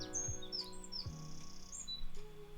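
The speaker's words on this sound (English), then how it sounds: "I think that might be a blackbird." A blackbird sings outside a window, with clear, distant chirps and whistled phrases over a faint steady hum.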